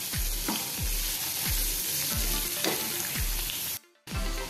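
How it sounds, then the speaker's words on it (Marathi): Finely chopped onion fries in hot oil with whole spices, a constant loud sizzle punctuated by regular spatula scrapes about every half second, with a brief cut to silence near the end and no voices. "ह्याच्यामध्ये आपण 1 मोठा कांदा बारीक चिरून घेतला आहे, तो थोडा परतून घेऊया."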